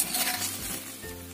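Fried tongkol fish goes into a simmering spicy coconut-milk broth with whole bird's-eye chilies, giving a close, steady sizzle and bubbling with light stirring and a faint clink of a pan.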